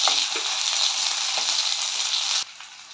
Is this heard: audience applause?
no